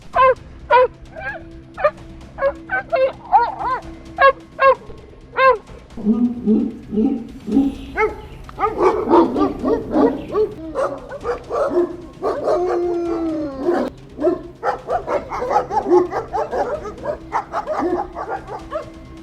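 Malamute-Greyhound cross dogs hunting rats in a dark, chaotic kennel bark, yip and howl in excited bursts, sparse at first and then a dense overlapping chorus close by.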